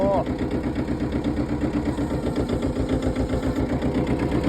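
A tractor with a mower attachment runs its engine at a steady, loud drone while the mower is raised, the rumble continuing unbroken throughout.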